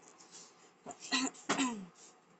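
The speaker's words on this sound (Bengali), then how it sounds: "ঠিক পরীক্ষার সময় ছেলেটার কাশিটা হলো" A boy gives two short, quiet coughs, like rough throat-clearing bursts, close to the microphone in a hushed indoor room.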